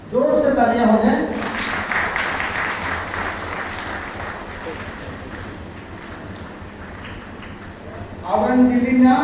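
A sustained round of clapping from a crowd at a men's day student felicitation event fills most of the stretch, framed by a man's amplified speech at the start and end.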